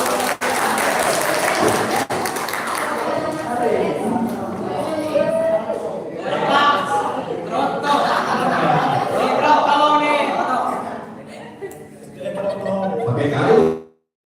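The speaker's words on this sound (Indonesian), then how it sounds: "Kita beri tepuk tangan yuk." Students at an entrepreneurship and creativity training session clap loudly, the applause mixed with chatter and laughter and swelling in waves before cutting off abruptly.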